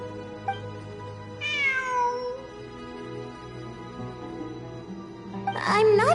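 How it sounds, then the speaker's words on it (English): A cat meows in the video game Genshin Impact, with a drawn-out, falling meow near the middle and a sharper, louder cry at the end, set against a quiet tonal background. "I'm not hearing things. It really is a cat."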